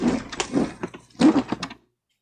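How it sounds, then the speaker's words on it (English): A shed door being opened gives a close series of rattling knocks and thumps that stop abruptly into silence. "I can just open the shed door"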